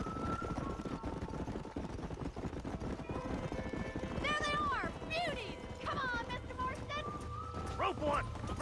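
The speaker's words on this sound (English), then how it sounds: "Make it extra difficult to lasso horses in the middle of the night." Horses in the Red Dead Redemption video game gallop and whinny at night. Hoofbeats and ambient game sound run throughout, with several loud, near neighs rising and falling in pitch.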